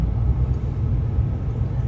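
Steady low road rumble and engine drone from inside a vehicle stuck in slow traffic, continuous and even throughout with no distinct events.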